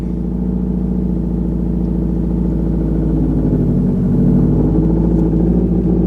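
Steady low rumble of a car engine idling close by, even and continuous with a slight rise in the second half, on a car with a bad O2 sensor that bucks.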